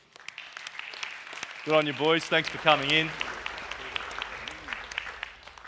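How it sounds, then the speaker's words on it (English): An audience at a school information evening claps steadily at moderate volume, with someone speaking briefly over the applause partway through. "we'll give these fellas a clap."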